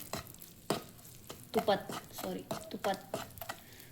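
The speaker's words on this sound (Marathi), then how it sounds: "तुपात हा मसाला थोडासा परतून घ्यायचा." Spice masala for makhana is stir-fried in ghee on a low flame, with soft sizzling and scraping stirs in short bursts under a person talking nearby.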